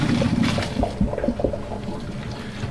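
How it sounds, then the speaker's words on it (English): Pasta cooking water pours and splashes steadily into a colander for a few seconds, a continuous close-up gush with small bubbling bursts, no voices. "We'll just pour it into a colander"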